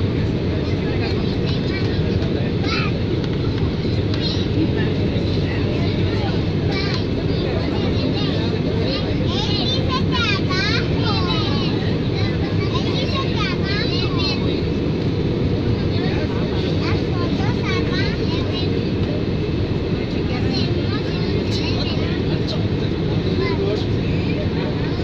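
Steady airplane cabin rumble fills the space during a landing at La Paz, with broadband engine and air noise. Faint chirpy background sounds and distant voices sit underneath.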